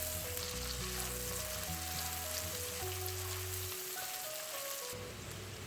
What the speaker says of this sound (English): Cumin seed I want to add here to my onion. Cook first like a gold color.